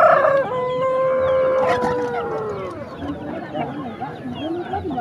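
A Pelung rooster at a market in Bandongan, Magelang, crows one long, loud, drawn-out call close to the microphone, followed by clucking amid market noise and background voices.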